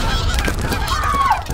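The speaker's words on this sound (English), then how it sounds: "Look, it's a flock of migrating geese." A flock of migrating geese honks in a short burst of overlapping calls, with one clear rising-and-falling honk standing out above a soft background hiss.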